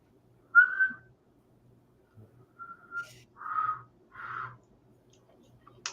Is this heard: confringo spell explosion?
no